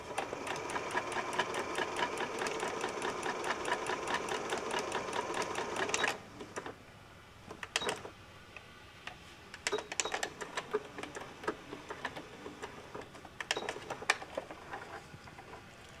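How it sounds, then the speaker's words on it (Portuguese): A sewing machine stitches two centred pieces of quilt fabric for a tumbling-blocks patchwork, running in a steady fast buzz for about six seconds, then pausing and giving several short stitching bursts with quieter gaps between. "Centralizados os dois tecidos, só passar a costura."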